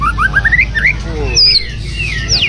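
Magpie robins (murai) of the Supak and Panda colour variants, a Supak female and Panda male pair, giving bright rising whistled chirps and squawky calls in quick bursts, close and fairly loud.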